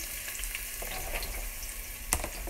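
Onions frying in a hot pan, with a steady close sizzle and crackle and a few stirring clicks, one sharper scrape standing out near the end.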